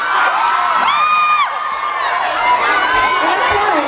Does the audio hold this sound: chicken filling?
no